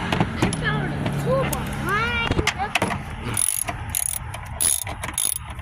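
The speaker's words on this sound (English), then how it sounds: "I tried to put the 8 socket on the 10." Ratchet and socket working on the bolts of a Chevy Tahoe air intake, giving a run of quick clicking ratchet strokes up close, with short metallic squeaks and knocks and a voice talking partway through.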